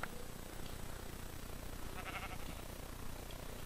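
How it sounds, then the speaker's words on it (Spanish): Sheep in the Minecraft video game bleat a few times, faint against a soft background hiss, with no talking. "¡Hola, oveja blanca! Ven aquí."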